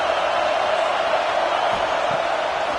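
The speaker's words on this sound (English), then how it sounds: "Listen to the crowd energy here in the early going." Stadium crowd in College Football 26 at an Alabama vs Oklahoma game, a steady, dense roar of many voices that holds constant throughout without distinct cheers or peaks.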